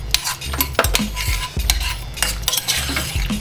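Spoon stirring a tomato paste mixture in a pan while cooking a Spanish tortilla, with repeated scraping clinks of utensil against metal and a soft sizzle underneath, close and steady throughout.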